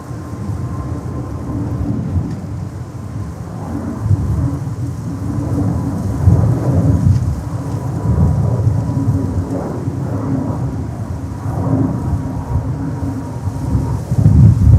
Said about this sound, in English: You can hear the wind gusts on the microphones.